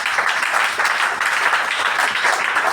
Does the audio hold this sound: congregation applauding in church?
yes